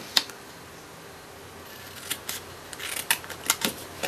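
Scissors snip through card stock for a handmade thank-you card, a few crisp close cuts, sparse at first, then quicker clustered snips.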